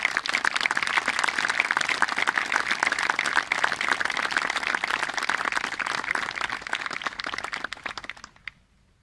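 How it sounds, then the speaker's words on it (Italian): A crowd at a cultural festival gives a commemorative round of applause, dense and loud clapping that carries on steadily for about eight seconds before it dies away. "chiedo un applauso di commemorazione"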